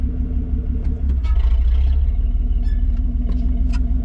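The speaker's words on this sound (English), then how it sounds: "that's the bed rubbing the tires" A Chevy S10 pickup's bed rubs against its tires while driving, a steady low engine and road rumble with intermittent scraping, clattering bursts riding on top.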